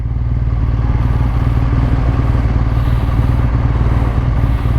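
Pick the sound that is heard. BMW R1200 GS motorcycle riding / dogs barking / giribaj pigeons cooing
BMW R1200 GS motorcycle riding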